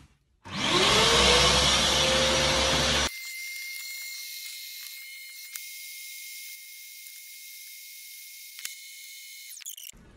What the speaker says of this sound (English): You should vacuum the edges of the window. So we'll vacuum it now.